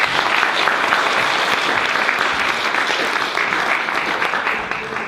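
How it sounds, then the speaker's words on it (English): A community audience at a food poverty forum gives sustained, dense applause to welcome local MP Ingrid Leary, loud and steady throughout and easing slightly at the end, with no voices over it. "Can we have a round of applause,"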